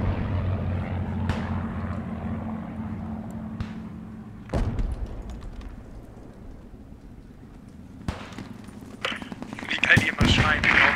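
Gunfire crackles and booms in the World War II video game Post Scriptum, with scattered sharp shots and heavier bursts near and far while players talk over the battle noise.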